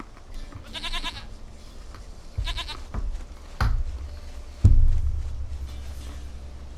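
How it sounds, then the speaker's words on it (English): Goat bleating in The Witcher 3 video game, several wavering nasal bleats in quick bursts with heavier thuds and low ambient rumble between them, fairly loud and close with no talking. "Goat of mine, dearest, sweetest goat."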